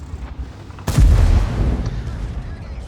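The E77 heavy tank's cannon fires once in World of Tanks, a sudden heavy boom with a deep low-end thump that rumbles and fades over the next couple of seconds.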